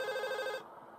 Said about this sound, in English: And we get a phone call.